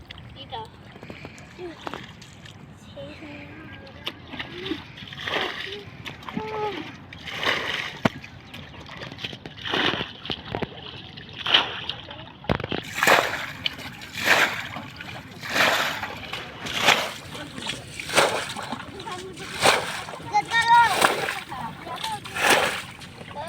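Village children splashing and sloshing water while catching fish in a muddy pond, with repeated close splashes in bursts as voices talk and shout throughout.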